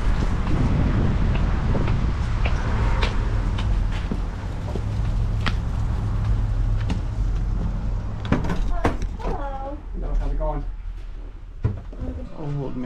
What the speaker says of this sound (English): Windy as hell out today.